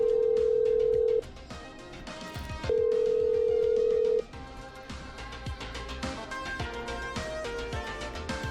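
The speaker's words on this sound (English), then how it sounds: "Okay, I'm dialing." In the video game Killer Frequency, a phone line gives two long, loud ringback tones, then soft tones and faint clicking as the call connects.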